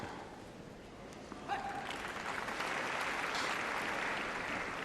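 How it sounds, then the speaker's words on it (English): Applause from the Wimbledon tennis crowd during a Nadal vs Petzschner match, a broad soft wash of distant clapping that swells slightly and holds steady. "So there was a fair amount of applause for that"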